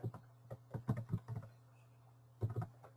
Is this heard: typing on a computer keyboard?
yes